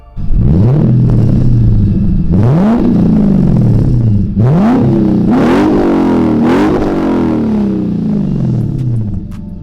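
Lexus IS F sedan's V8 engine with a muffler delete, revved hard four times in a row, each blip sweeping up sharply then falling back to a loud, rumbling idle, close up with no talking.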